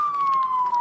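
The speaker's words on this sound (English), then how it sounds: "go shut those sirens off" A police car siren wails loudly and close by, holding a steady, slowly falling tone with faint background noise underneath.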